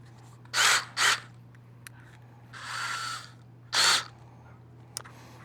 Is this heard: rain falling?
no